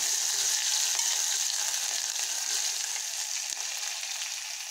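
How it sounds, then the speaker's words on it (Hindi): Ginger garlic paste, cumin and asafoetida fry in hot oil for an urad dal tadka, a steady, close, bright sizzle that stays even throughout with faint stirring and no talk. "ऑयल हो गया है गरम, मैं डाल दे रही हूँ हींग, जीरा, अदरक, लहसुन का पेस्ट"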